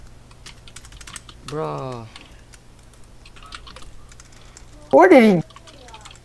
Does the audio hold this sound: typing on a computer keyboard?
yes